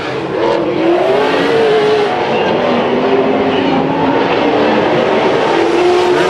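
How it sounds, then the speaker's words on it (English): Race cars running a heat at Bakersfield Speedway, a loud continuous engine roar with rising and falling whine as the cars circle the oval, filling the whole stretch without any talking. "Lee Jensen takes the white flag with a big lead over Dutton."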